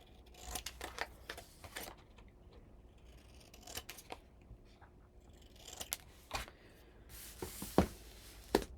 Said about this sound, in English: I'm going to grab some scissors and cut off my corners